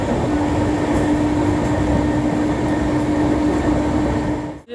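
Tamralipta Express on the Howrah–Digha route rolling toward Santragachi, a steady loud rumble of wheels and carriage with a faint squeal, heard from inside the train, cutting off abruptly at the end.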